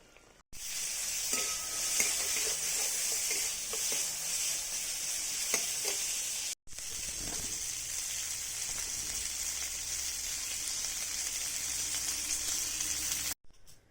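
Ground spice paste frying in a pan gives a loud, continuous close-up sizzle with occasional stirring scrapes and clinks, briefly cut off near the middle and again at the end, with no voices.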